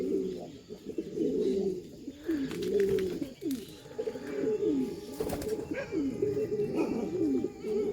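Pigeons in a breeding loft coo repeatedly in soft, rolling calls that overlap from several birds, mixed with occasional chirps and brief rustling, moderately close at a low, steady level.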